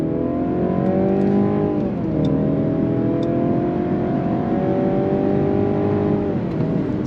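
A 2023 Mercedes-Benz C300 sedan with an automatic transmission accelerates under throttle, heard from inside as a steady engine drone that climbs in pitch, with two smooth gear shifts dipping the tone.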